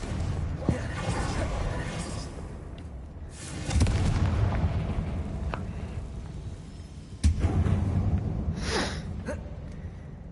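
In the Hogwarts Legacy video game, a Confringo spell sets off explosions in a mine, heavy booming bursts with rumbling tails, alongside a whoosh and a bright chime late on.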